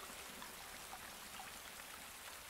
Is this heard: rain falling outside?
yes